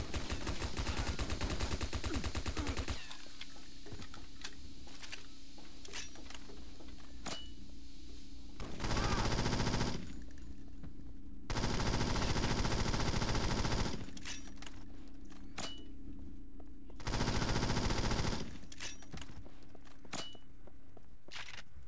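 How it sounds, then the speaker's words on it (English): Gunfire in the PC shooter James Bond 007 NightFire on the Island Getaway mission: repeated rapid automatic bursts and single shots, loud and close, with several sustained roaring stretches between volleys and no voices. "I'm being shot from somewhere, but I don't know where I was getting shot at from."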